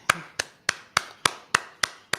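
Eight sharp, evenly spaced hand claps ring out alone in a steady rhythm, roughly three per second, each one crisp and close.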